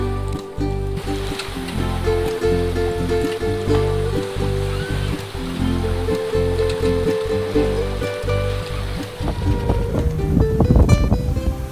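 A boat's engine runs steadily on the way to a bunkering station at Helgoland, a constant low droning hum with tonal overtones, joined by wind and water noise that builds toward the end.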